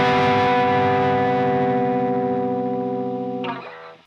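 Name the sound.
electric guitar playing compact three-note major 7 chord voicing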